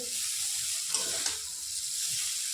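Veg chow mein with cabbage and Maggi masala being stirred in a hot pan: a steady sizzle broken by short scraping stir strokes in the middle, close and moderately loud, with no voices.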